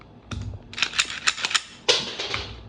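SD9 handgun slide racked repeatedly to cycle rounds, giving a series of sharp metallic clacks and snaps close by, spaced irregularly, with a louder final slam near the end.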